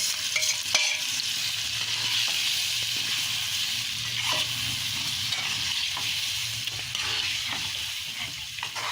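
Marinated chicken for biryani cooking in a pan over medium flame, a steady hissing sizzle with occasional scraping taps from stirring, close and even, no talking.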